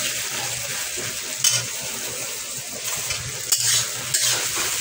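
A spicy fish curry cooking in a pan gives a steady sizzle with scraping and stirring, plus occasional brighter spatters and clinks, heard alone at close range.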